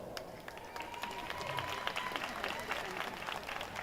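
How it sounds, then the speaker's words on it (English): Audience applause at an evening fiesta performance in Santa Barbara's Old Spanish Days, a steady patter of clapping from a seated crowd, moderately faint and distant, with voices murmuring beneath it. "give yourself an applause."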